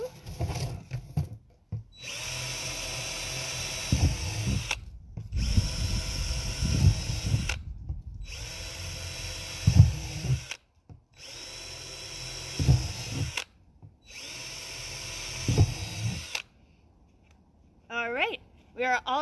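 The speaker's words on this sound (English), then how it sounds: "And I'll flip it over and I'll drill holes there too." A power drill bores holes through the bottom of a plastic container being made into a mini compost tumbler. It gives several loud, close whining bursts separated by short pauses.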